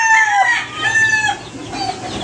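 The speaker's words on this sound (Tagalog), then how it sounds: "Tingnan nyo yung mga manok na yan, may mga sisiyo din sila doon." Chickens and their chicks on a farm: a hen clucks up close while thin, high chick peeps rise and fall over a soft background, with no talking.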